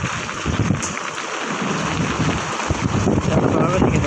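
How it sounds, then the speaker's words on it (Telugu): A sudden summer thunderstorm with heavy rain, a steady close rush of falling water layered with deep rolling thunder rumbles that swell and fade across the few seconds. "చూడండి వర్షం బాగా పడుతుంది"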